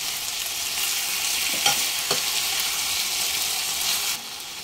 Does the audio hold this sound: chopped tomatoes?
yes